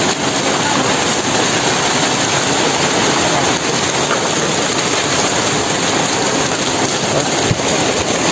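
Heavy typhoon rain pours down over a chicken farm in a loud, constant roar that stays steady throughout, with no voices.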